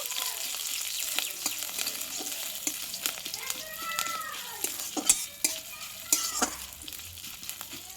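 Curry leaves fry in hot oil, giving a steady crackling sizzle with sharp spits and pops scattered throughout, plus a few light stirring clinks, close and moderately quiet, with no voices.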